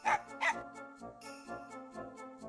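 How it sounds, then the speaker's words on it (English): Dog barking in the video game MegaMan Legends: two sharp, close barks at the start, then a string of softer, rhythmic yips over a tonal game music background. "she's busy being attacked by a dog"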